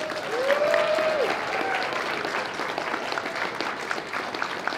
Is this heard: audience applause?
yes